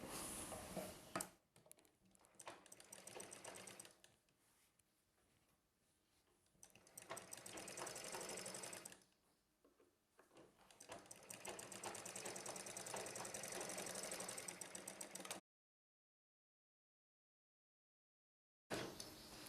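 A sewing machine stitching the lining of a peplum blouse runs in rapid, whirring bursts with short pauses between them, then cuts to silence before starting again, loud and close.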